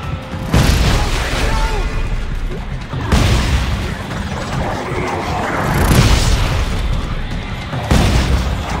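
Gunfire and explosions from the sci-fi survival horror game Dead Space 3, with loud booming blasts every few seconds over a dense rumbling roar, punctuated by sharp impacts.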